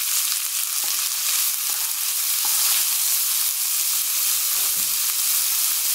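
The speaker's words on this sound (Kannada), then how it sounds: "ನೀರುಳ್ಳಿ ಚೆನ್ನಾಗಿ ಹುರಿದು ಬರುತ್ತೆ" Sliced onions fry in hot oil in a pan for carrot rice, a bright continuous sizzle with occasional soft stirring taps against the pan, close and steady throughout.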